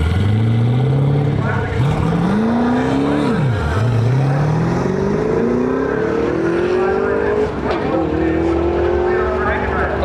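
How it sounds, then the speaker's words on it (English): A fourth-generation Camaro launches at a drag strip, its engine roaring loudly and climbing through several gear changes. An announcer talks over the pass at a racing event. "4th gen Camaro pulling up to the line right now"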